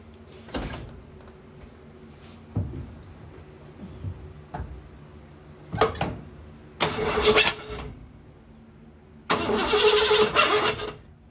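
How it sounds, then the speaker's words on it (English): Hot rod engine with HEI ignition cranking on the key in several bursts, stumbling and cutting out between attempts, then catching with louder, longer roars near the end. "When I'm cranking it, it don't want to start till I let the key go into the on position, then it kicks on."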